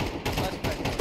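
Counter-Strike 2 flashbang grenades going off, three quick, loud, harsh bursts within about a second over dense game noise.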